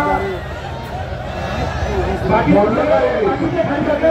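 A large crowd of spectators at a wrestling match in Harsul, Maharashtra, a continuous babble of chatter and shouting voices that swells louder toward the end, with people talking throughout.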